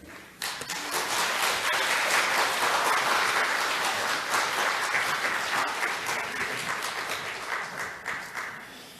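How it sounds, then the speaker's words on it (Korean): A church congregation at a morning revival service bursts into loud, sustained applause that stays dense and even for several seconds before tapering off slightly at the end. "우리 뜨거운 박수로 목사님 가정 환영하면서 맞이하도록 하겠습니다"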